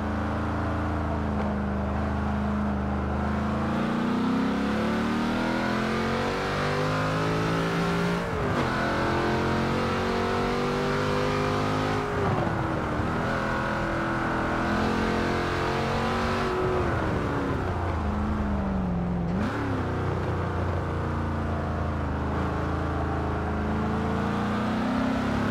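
A race car engine in Forza Motorsport 7 on the Nürburgring Nordschleife roars continuously, revving up and dropping between gear shifts, loud and close with a whining, mechanical tone.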